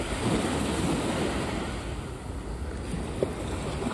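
Ocean waves rolling in at Kite Beach, Dubai, at night: a steady, close wash of surf with constant wind rumble and no talk, one soft splash standing out near the end.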